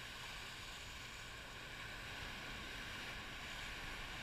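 Ocean surf washes steadily against the shore during a boat launch, a constant broadband roar of waves with some wind, even and unbroken, with no voices.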